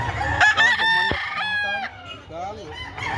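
Several roosters crow in overlapping calls close by at a busy gamefowl market in Carbon, Cebu, where a white-legged stag is up for sale, with market chatter and clucking underneath.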